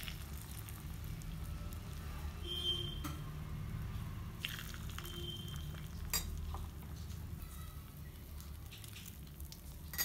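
Vegetable egg batter sizzles steadily in a hot paniyaram pan, a soft continuous frying hiss with occasional light clinks of a utensil against the pan.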